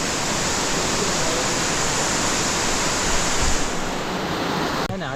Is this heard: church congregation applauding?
no